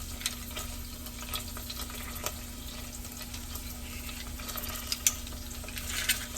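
Garlic cloves frying in a pan while cooking eggplant with Pecorino Romano, a steady low sizzle with occasional light crackles and stirring scrapes, close and fairly quiet, with no talking.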